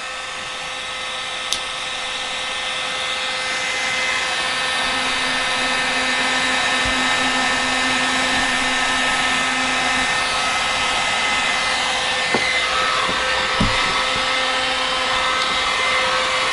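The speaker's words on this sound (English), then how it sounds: "I can smell as the heat gun's going." A heat gun blows steadily on the body of a Made in Japan Foto Flame Stratocaster guitar, a loud, unbroken airy whine close up, with a few light clicks and taps over it.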